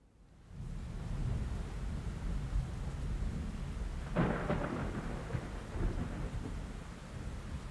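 A theatrical rain and thunder sound cue starts with a steady wash of rain, then a sharp thunder crack near the middle gives way to a lingering rumble under the continuing downpour.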